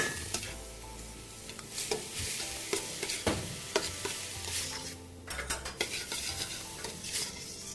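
Tomato paste is stirred and fried in a pot for Uzbek pilaf, with a steady close sizzle and repeated scraping and clinking of a utensil against the pot throughout. Nobody speaks.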